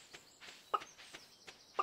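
In the video game Stardew Valley, soft, faint clucking from a chicken, a few short, scattered clucks spread over a couple of seconds in a quiet background.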